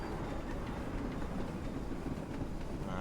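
Train Simulator 2019 GC freight wagons roll over points in a steady, muffled rumble with faint rhythmic clatter, fairly quiet and without speech.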